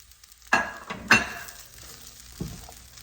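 Shrimp fried rice with egg is stirred in a hot pan, with several sharp scrapes and clatters of a utensil over a low, faint sizzle, no talking.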